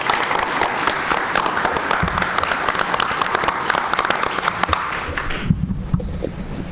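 Audience applause at a city council candidates forum, dense steady clapping from a hall full of people that carries on for several seconds before abruptly thinning out near the end.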